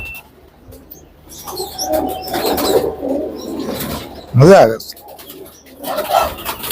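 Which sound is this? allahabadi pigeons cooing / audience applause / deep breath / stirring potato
allahabadi pigeons cooing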